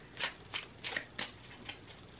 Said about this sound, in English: remaining focused on the matter as you shuffle the cards.